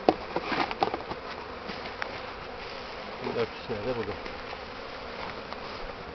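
A dense, steady buzzing of many bees at a hive being compressed, close by, with someone speaking briefly over the hum and some light handling noises.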